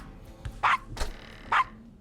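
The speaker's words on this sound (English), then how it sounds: "Shut up, dog." Dog barking in the Gabriel Knight: Sins of the Fathers video game, two sharp barks about a second apart, moderately loud against a faint background.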